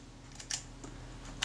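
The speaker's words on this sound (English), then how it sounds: "Shutter release functions." Two faint mechanical clicks from a camera's shutter release, a sharp snap followed by another about a second later, in a quiet room with low hum.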